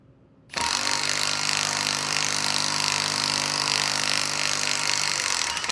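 Impact driver hammering a tap into steel with a little lube, a loud, steady rattling whine that starts abruptly and runs continuously close by with no talk.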